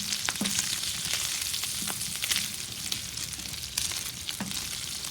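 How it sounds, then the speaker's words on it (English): Bacon frying in a griddle pan on a Sunterra Outdoor 48-inch Santa Maria grill, a steady, close crackling sizzle with scattered sharp pops and spits throughout. "but this bacon is browning up nicely."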